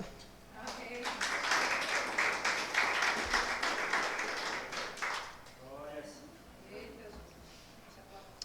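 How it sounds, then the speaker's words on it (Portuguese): A church congregation claps and applauds for several seconds, a dense burst of hand claps that fades out as a voice starts talking over the tail. "Aplauda o Senhor só para me tomar uma água."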